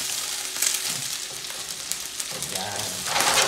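Chicken adobo fried rice made from leftovers sizzles in a pan while being stirred, giving a steady close frying hiss with occasional scraping.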